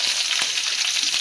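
Green chillies fry in hot oil in a pan with ginger, giving a steady bright sizzle and crackle with a few soft stirring knocks.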